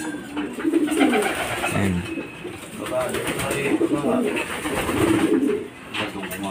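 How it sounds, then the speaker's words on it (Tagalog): Pigeons coo loudly and continuously at close range, their throaty rolling calls layered over one another, while someone speaks over them now and then. "Ang lalakas ng mga ibon, mga kalapatids, oh."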